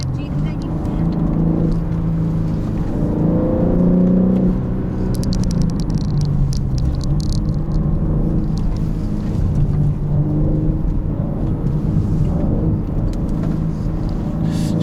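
A BMW M3 Competition sports sedan's engine drones steadily under engine braking on a winding road, with road rumble and some rattling inside the cabin, while a voice talks over it throughout.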